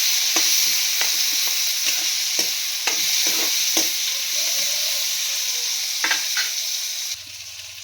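Cumin seeds and curry leaves frying in hot oil for upma, a steady close sizzle with repeated clinks and scrapes of a spatula in the pan, no talking.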